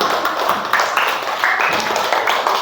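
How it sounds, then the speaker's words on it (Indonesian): A classroom of students claps for a student group, with uneven, fairly close hand claps and light room chatter mixed in. "yuk tepuk tangan dulu untuk kelompok 2."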